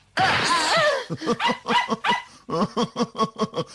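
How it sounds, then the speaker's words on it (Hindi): A cartoon dog in a Perman episode barks in a rapid run of sharp, loud yaps and yips, close and alone, after a brief noisy burst at the start. "ये मेरा प्यारा डॉगी है।"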